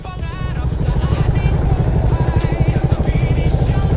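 A motorcycle engine runs at a steady, close idle with a rapid low pulsing rhythm, with a faint voice now and then in the background, heading toward a trekking spot near Baguio.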